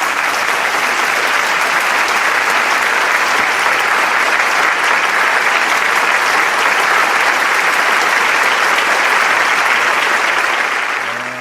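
Big round of applause from a large festival crowd at a youth blessing event, a dense, loud, continuous roar of clapping lasting over ten seconds and tapering slightly at the end.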